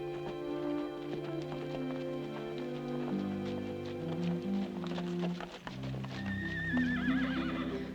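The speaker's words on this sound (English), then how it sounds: "I'd like to see Mr. Sloan handle one of our Kansas horses." Kansas horses whinny and neigh repeatedly over a steady clip-clop of hooves, with a high, wavering neigh standing out near the end.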